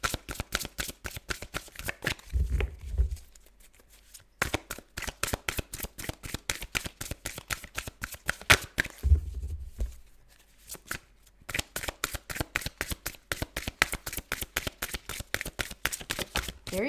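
Tarot cards shuffled by hand at close range, long runs of rapid crisp riffling flutter broken by two short pauses, with no talk over it.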